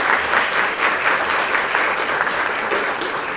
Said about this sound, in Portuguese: eu gostaria de mais uma vez pedir uma salva de palmas a todos da escola de dança